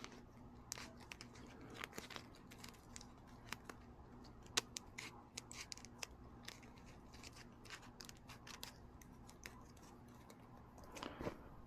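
Scissors slice thin slivers from camo wrap for an Arctic Cat 400 ATV seat cover, giving faint, close, irregular snips and small crackles over a quiet background, with no talking.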